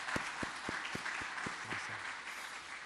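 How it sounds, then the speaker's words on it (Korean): A church congregation applauds at a Sunday service, steady quiet clapping with a few sharper hand claps standing out at the start, heard from a distance in a reverberant hall. "한번 크게 박수 칩시다."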